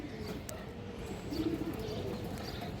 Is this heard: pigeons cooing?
yes